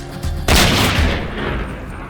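A single loud gunshot from a Western film during an attack on a stagecoach, a sharp close blast that decays over a couple of seconds into a rumbling tail.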